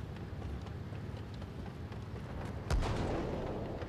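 In a tank combat video game, a cannon shell strikes with one sudden heavy boom partway through. The hit cuts through a constant low rumbling battlefield background.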